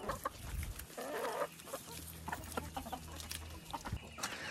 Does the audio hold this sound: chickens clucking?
yes